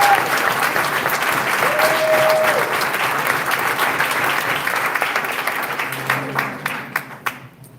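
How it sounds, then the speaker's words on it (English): A meeting audience gives a loud round of applause in Dolton, sustained dense clapping that thins out into a few scattered final claps near the end. "Give yourselves a round of applause"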